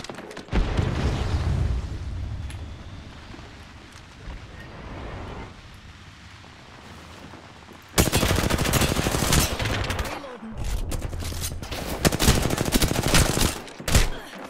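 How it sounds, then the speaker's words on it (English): Bursts of gunfire in the Apex Legends battle royale game, quieter and muffled at first, then louder, denser volleys of rapid shots in the second half, with no talking. "I am taking fire, friends."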